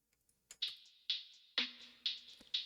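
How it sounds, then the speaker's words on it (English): A percussion loop from the Jupiter Essentials drum kit: crisp, bright hits land in a steady, evenly spaced pattern, with one deeper thump partway through. The loop plays alone and fairly quietly. "so the perk loop sounds like this."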